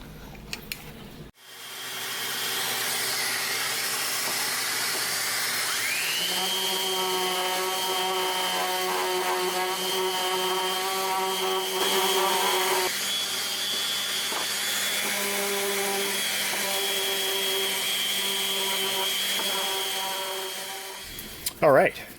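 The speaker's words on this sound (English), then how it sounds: "I'm going to use my random orbital sander to bring this down to about 150 grit." A random orbital sander smooths wooden splines on a colored spline box joint to about 150 grit, running loud and steady for about twenty seconds with a shifting whine, then switching off.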